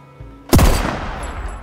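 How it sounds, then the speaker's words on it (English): A single loud gunshot rings out in Deathloop as a wall gets shot, a sharp close blast followed by a decaying echo. "Oh, I'm shooting the wall."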